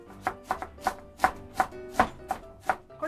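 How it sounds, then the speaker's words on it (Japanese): A knife chops napa cabbage and cabbage on a cutting board for gyoza filling in a steady rhythm of about ten crisp, crunchy cuts, close and unaccompanied by talk. "端からまたザクザク、"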